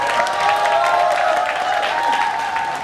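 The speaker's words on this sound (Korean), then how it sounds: "박소경 지부장님을 힘찬 박수로 모시도록 하겠습니다" A crowd at an outdoor rally to save a regional public hospital breaks into loud, dense applause that holds steady, with faint cheering and a tonal hum underneath.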